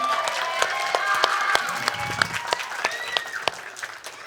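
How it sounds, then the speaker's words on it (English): Clapping rises from a church Vacation Bible School audience for the song leaders, scattered sharp claps over a bed of sustained tones and murmur, moderately distant and fairly soft. "let's give Miss Amber and Miss Megan a round of applause for helping us with all of our songs here tonight"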